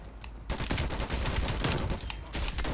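Rapid bursts of UGR rifle fire crackle from Black Ops Cold War, sustained automatic shots running almost continuously with brief gaps.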